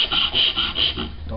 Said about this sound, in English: what I look at when I'm sawing and I'm creating that kerf is the corner or edge of the board